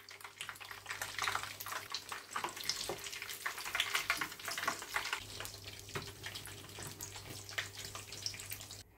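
Torrijas, bread slices soaked in milk and egg, frying in hot oil in a home kitchen, give a steady dense crackling sizzle for the whole stretch, with sharper pops scattered through it and a low hum underneath.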